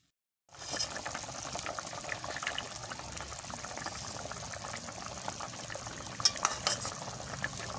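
Fish curry coming to a boil in a pot, a steady low bubbling and simmering hiss starting after a brief silence, with occasional faint clicks of utensils.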